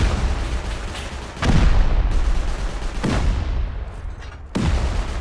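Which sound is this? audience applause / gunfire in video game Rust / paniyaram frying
gunfire in video game Rust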